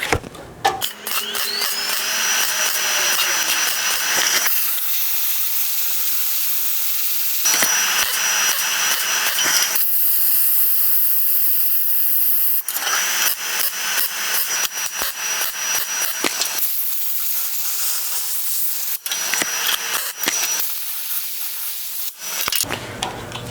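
MIG welder laying tack welds on a metal patch panel during rust repair fabrication: close, steady crackling hiss in several long bursts with brief gaps between them.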